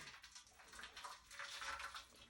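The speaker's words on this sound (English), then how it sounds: "So I'm gonna go ahead and add my water in here." Hot water poured into a container for tea-dyeing Aida cloth, a steady, close splashing and gurgling pour that continues throughout with no talk.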